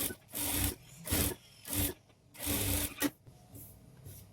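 Sewing machine stitching along the folded edge of a blouse, running in short bursts of rapid whirring with brief pauses between them, close by and fairly quiet, with no speech.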